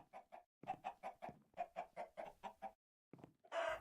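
A run of quick, rhythmic clucks from a chicken in Minecraft, repeated in short bursts, then a brief pause and a harsher squawk at the end.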